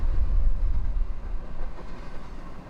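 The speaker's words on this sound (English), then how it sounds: "This is one huge train." A heavy CSX stack freight train of about 200 cars rumbles past close by, a deep continuous roar of rolling cars with faint rhythmic clanking, steady throughout.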